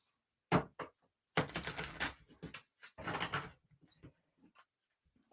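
A deck of cards is shuffled up close in several crisp, papery bursts of riffling and clatter separated by short quiet gaps, with no talking.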